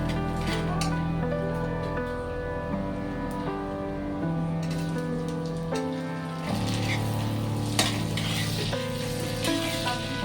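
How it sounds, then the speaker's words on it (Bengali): Chopped tomato frying with onions in a hot pan, giving a soft continuous sizzle with occasional stirring knocks, close and steady with no talk. "এবার আমি এখানে টমেটো কুচানোটা দিয়ে দেবো।"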